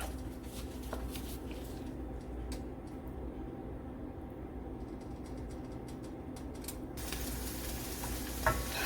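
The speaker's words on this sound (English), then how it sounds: "I'm going to just stir that around so that can begin to saute and get those flavors going in that pan" Quiet pan sizzle as sauce for spaghetti squash and meatballs is stirred with a spoon, with scattered light scrapes and taps over a low, steady hiss.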